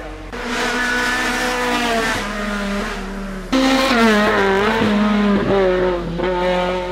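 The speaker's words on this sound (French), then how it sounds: "8e place pour David Barrière et son antique Volkswagen Golf dans cette course de côte qui rend hommage à son père." An old Volkswagen Golf race car climbs a hill-climb course, its engine revving loud and close with rising and falling pitch and a sharp gear change midway, no voices.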